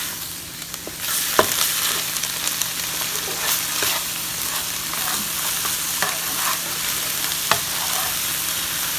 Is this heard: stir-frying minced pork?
yes